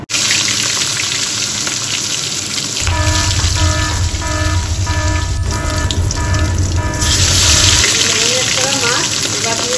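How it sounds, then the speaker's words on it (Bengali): Rui fish pieces drop into hot oil in a wok, setting off a loud continuous sizzle and spatter that swells for several seconds, with faint talk in the background. "এবার আমি মাছগুলো ছেড়ে দিচ্ছি। এ দেখো তেল গরম হয়ে গেছে।"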